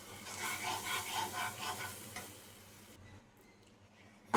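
Mango pulp and water being stirred together in a pan for a Bengali mango kheer kadam sweet, a soft scraping and swishing that sounds close for about three seconds, then drops to near silence.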